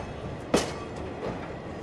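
Moscow metro train passing in the underground, a steady rolling rumble with a sharp burst of noise around the middle, heard alone without voices.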